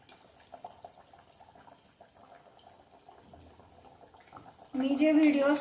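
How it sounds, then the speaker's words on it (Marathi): Sweet potato gharge dough dropped into hot oil begins frying with a sudden loud, steady sizzle and bubbling that continues to the end, after quieter kitchen sounds. "आता आपण हे तळून घेऊयात."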